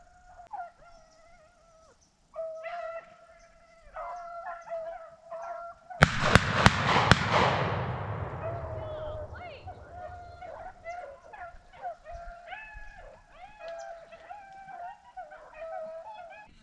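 Hunting dogs on a South Carolina rabbit hunt bay and howl in repeated bursts while working to pick up a lost rabbit trail in thick cover; a sharp cluster of gunshots cracks loudly midway before the baying resumes, with some talk mixed in.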